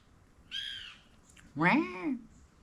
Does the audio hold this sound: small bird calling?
yes